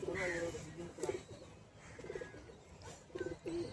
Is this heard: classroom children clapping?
no